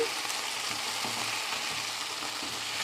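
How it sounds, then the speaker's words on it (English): Pumpkin and amaranth soup ingredients with garlic sizzle steadily in a pot on low heat, a continuous soft frying hiss broken by occasional light scrapes of stirring. "even if your food is on low heat, you need to keep turning so that it doesn't burn"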